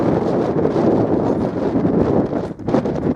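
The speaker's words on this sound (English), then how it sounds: "Such strong gusts that I'm getting blown off my feet" Strong gusts buffet the microphone among boulders on Sugarloaf Mountain, a loud, low, continuous rumble that swells and dips with a brief lull near the end.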